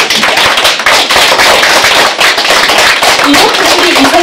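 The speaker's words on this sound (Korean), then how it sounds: "우리 린단 회장님께 한번 박수 좀 부탁드립니다" Loud, dense applause from an event audience, continuous sharp clapping filling the whole stretch with a few voices underneath.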